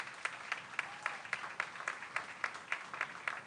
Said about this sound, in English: Let's give all of them a round of applause today